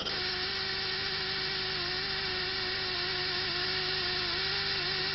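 A continuous high-pitched whirring drill motor running steadily at constant speed, loud and close, with no talking.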